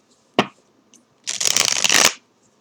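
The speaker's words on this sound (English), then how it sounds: "Just let me shuffle here." Deck of cards shuffled at close range: a single sharp snap, then a dense, crisp riffle lasting nearly a second, with no voices over it.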